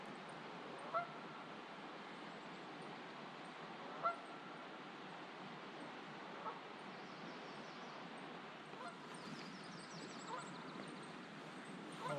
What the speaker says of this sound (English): Geese are happy this morning.